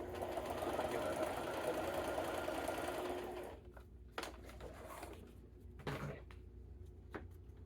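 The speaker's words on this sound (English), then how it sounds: "put it in the sewing machine and just sew right across the top" A sewing machine whirs steadily for a few seconds stitching across paper, then stops, followed by a few scattered clicks and light handling noises.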